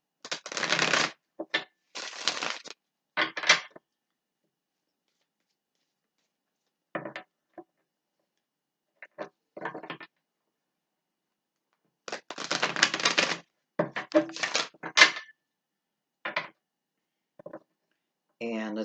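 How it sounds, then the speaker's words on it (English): A deck of Cosmic Tarot cards is shuffled in close, crisp riffling bursts, several separate rounds with silent gaps between them. "Give it a couple shuffles."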